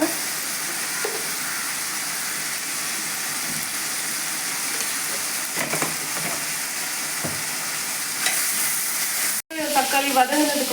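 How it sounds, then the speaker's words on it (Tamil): Tomatoes with a pinch of salt sauté in a frying pan, a steady close sizzle and hiss throughout, with a brief stirring clatter near the end. "தக்காளி போட்டதும் அது வதங்கிறதுக்காக கொஞ்சோண்டு உப்பு போட்டுக்கோங்க"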